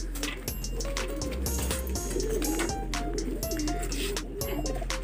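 Pigeons coo at a racing loft during training, low soft calls repeating steadily through the clip over faint background rustling, with no one speaking.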